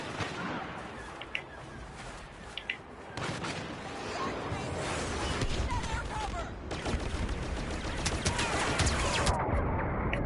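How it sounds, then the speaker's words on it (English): Third-person pistol fire in Star Wars Battlefront gameplay, with scattered sharp shots amid a dense, continuous battle din of blasts and gunfire, and a voice occasionally present underneath. "Let's try some third-person pistoleering here."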